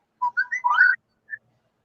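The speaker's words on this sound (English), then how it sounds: "The phone's whistling at me." A short whistled notification tone: a quick run of bright chirping notes, then one brief final chirp, clear against silence.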